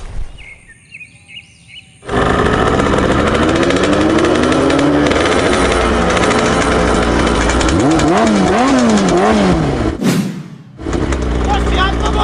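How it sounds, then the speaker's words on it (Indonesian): Motorcycle engine running loud and steady during a test ride by a young mechanic, with rising and falling revs and a brief dip near the end, over faint voices. "saya coba motor dulu"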